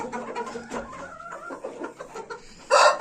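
Chickens cluck and call inside a closed coop holding young birds at a rooster breeder's yard, several close clucks through the clip, ending in a sudden loud burst of flapping or squawking.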